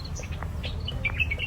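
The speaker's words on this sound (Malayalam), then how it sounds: "കിളി കളകളാരവം, കിളികളുടെ ശബ്ദം" Several small birds chirp and call outdoors in quick, high tweets scattered across a brief moment, moderately near, over a low steady background rumble.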